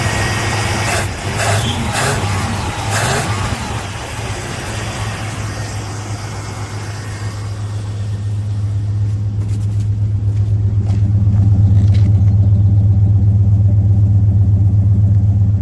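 A 1967 Pontiac Catalina engine idles just after startup following almost a year unused, a close, steady low rumble that grows louder and fuller toward the end.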